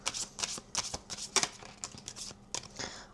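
A tarot deck is shuffled close by before a card is drawn, giving a quick run of crisp, riffling card flicks and soft slaps in an uneven rhythm.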